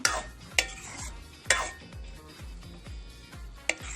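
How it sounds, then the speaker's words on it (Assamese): Dry fish and brinjal being stirred in a pan, a spoon scraping and knocking against the metal in repeated strokes, with a soft sizzle underneath; close and moderately loud, no voices. "ধুনীয়াকৈ এনেকৈ মিক্স কৰি দিব"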